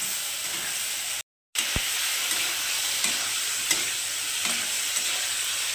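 Fried eggplant is stirred into a hot spice masala, giving a steady close sizzle with scraping stir strokes, a brief silent gap, then continued crackling and hissing from the pan.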